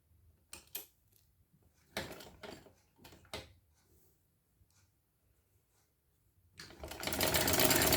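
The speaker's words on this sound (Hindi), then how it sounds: "तो ये मशीन में मैं रखते सिलाई कर देती हूँ इसकी।" A sewing machine stitching a shirt collar, with a few scattered handling clicks and taps before the motor starts near the end with a loud, steady, close-up whir.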